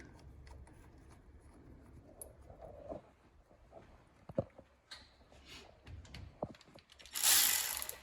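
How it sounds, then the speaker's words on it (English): Ratcheting clicks of a hand tool tightening bolts during a Janus 250 stage 3 and 4 installation, quiet and close, with irregular bursts of ticking and a louder metallic rasp near the end. "I'll use a tool here just to tighten these down."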